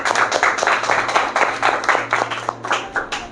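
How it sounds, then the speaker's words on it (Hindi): Applause for a pastor during a Sunday church worship service, a small congregation clapping in uneven bursts close by, with a low steady hum underneath. "एक बार फिर से हम पास्टर के लिए जोरदार तालियां बजाएंगे।"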